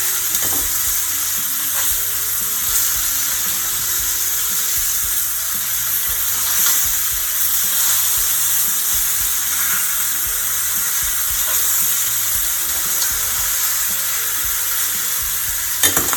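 Chicken for Southern smothered fried chicken frying in a pan gives a steady, dense sizzle and crackle that stays even throughout, close and unaccompanied by talk.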